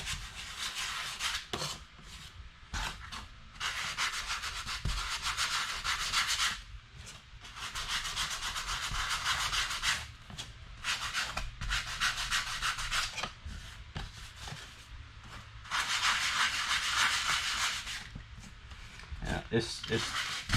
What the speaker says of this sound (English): I'm using 220 grit sandpaper. So it's a real fine sandpaper, and I'm just going to lightly sand